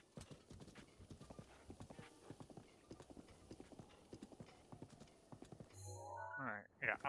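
Rhythmic horse hooves clip-clopping steadily in The Legend of Zelda: Breath of the Wild on Switch 2, followed near the end by a sharp, louder horse whinny, with faint game sounds underneath.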